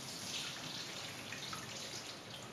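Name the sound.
pouring drained fat away from cooked mince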